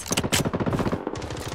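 Rapid automatic bursts from an AR97 rifle in the shooter game Blood Strike, loud and close, with crackling repeated shots running nearly the whole time and a brief gap before firing resumes.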